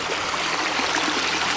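Spring water pours steadily into a farm pond with a continuous, close rushing and splashing sound and no voices over it.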